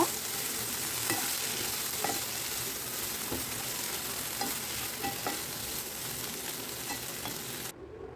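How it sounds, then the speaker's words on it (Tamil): Curry leaves, coriander and tamarind being sautéed and stirred in a pan for a guava chutney give a steady close sizzle, with scattered scraping clicks from the stirring and no voices. "கொஞ்சம் அந்த கொத்தமல்லி கருவேப்பிலை வாசனை பச்சை வாசனை போகிற வரையும் நல்லா வதக்கி எடுத்துக்கோங்க."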